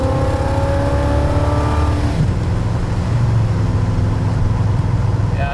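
A 1978 Corvette engine roars and revs steadily at close range as the carburetor secondaries open, its pitch climbing and then dropping into a rough, throaty drone.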